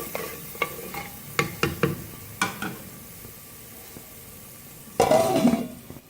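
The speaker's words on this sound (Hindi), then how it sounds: "अच्छी तरह से मिक्स करेंगे और चारों तरफ से हिलाएंगे" Turnip curry masala is stirred in a pan, with sharp spoon clinks and scrapes over a faint sizzle, then a brief louder burst of frying.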